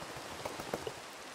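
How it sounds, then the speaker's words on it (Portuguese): Steady rain falling in a Minecraft game world, a soft continuous patter with a few brighter droplet ticks, heard alone with no talk. "Não, continua chovendo."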